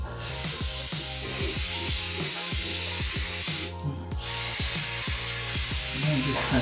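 A loud, steady aerosol spray of brake cleaner hisses up close around a car's oil pan and front frame, pausing briefly for about a second before resuming, with faint mechanical clicking underneath.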